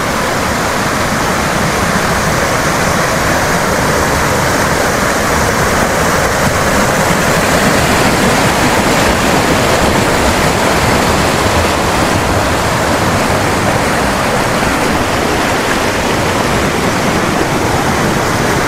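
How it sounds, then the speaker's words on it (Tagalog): A swollen stream after a typhoon roars with strong rushing water, a loud, constant, broadband torrent that fills the whole stretch with no letup. "Malakas yung tubig."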